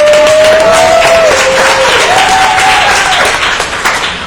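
A live audience at a chamber of commerce event bursts into dense, steady applause that stays loud throughout, with a short vocal whoop riding on top near the start.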